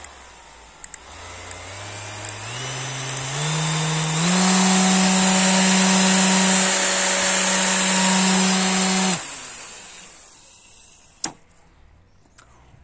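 A Parkside PAEXS 20-Li A cordless random orbit sander spins up in rising steps to a loud steady whine, holds it, then cuts off and winds down, followed by a sharp click.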